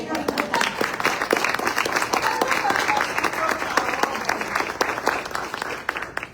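Audience applause at a book presentation at the Guadalajara book fair, a dense, steady crackle of many hands clapping throughout, close and loud, with a voice or two faintly mixed in.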